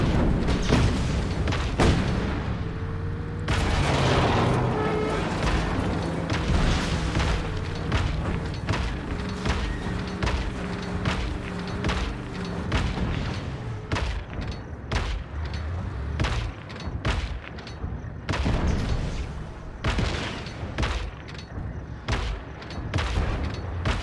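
Tank cannon fire and explosions in the video game Just Cause 3, a dense run of loud booming blasts and sharp bangs in irregular bursts, with rumbling engine drone underneath throughout.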